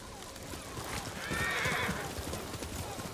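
A horse in the video game Ghost of Tsushima gives a clear whinny midway through, with clip-clopping hooves around it. A steady game ambience sits underneath.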